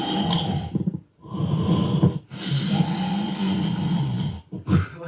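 A voice imitates loud snoring like an old man on steroids, with long rasping snores in repeated bursts separated by brief pauses, close and loud.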